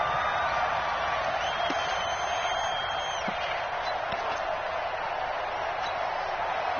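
A steady, loud crowd roar fills a domed indoor football stadium during a third-and-goal play, a dense wash of noise that holds without pause throughout.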